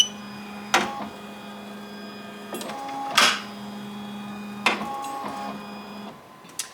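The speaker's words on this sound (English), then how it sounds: "this clamp, when it traces, is opening my bobbin case" An EM1010 embroidery machine runs a trace with an 8-in-1 fast-frame clamp fitted. Its steady whine and hum carry three sharp knocks where the clamp strikes the bobbin case, spaced a couple of seconds apart, with no voices.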